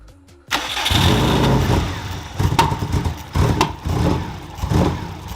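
A 2002 Subaru WRX cranks and fires up for the first time, a sudden loud catch followed by rough, uneven running with several sharp blips of revving; it is close and dominates the clip.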